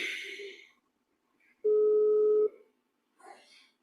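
A single steady telephone tone sounds for under a second when dialing a number that is not active, with brief murmured speech before and after it.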